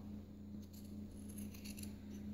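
Scissors snipping fabric ends while making a scrunchie, a few faint close cuts over a quiet background hum.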